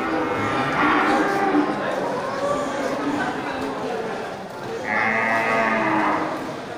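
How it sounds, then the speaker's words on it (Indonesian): A large Simmental breeding cow moos at a cattle sale, with loud, drawn-out lows near the start and again toward the end, while people talk over the barnyard bustle. "sapi simental besar ya, indukan ya"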